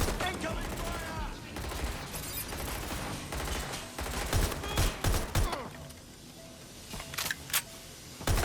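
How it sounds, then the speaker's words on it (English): Gunfire rattles during a Watch Dogs Legion boss fight, rapid bursts of shots and metallic clatter running steadily throughout, with sharper cracks standing out toward the end. "Incoming fire!"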